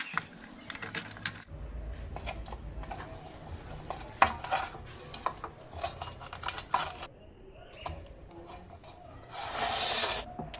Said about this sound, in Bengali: এইবার এতে কিছুটা লবণ ও হলুদ দিয়ে মাছটাকে ভালো করে ম্যারিনেশন করে রেখে দেবো